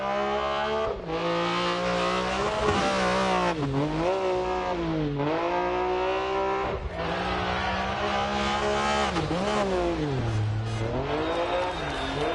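Group B MG Metro 6R4 rally car in DiRT Rally 2.0, driven on a New England stage. The engine roars loud and close throughout, with rising and falling revs, gear changes and occasional tire noise.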